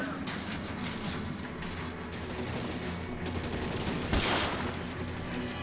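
Gunfire crackles in L.A. Noire, a busy fusillade of shots from several guns under a steady rumble, with one sharp, louder blast near the end.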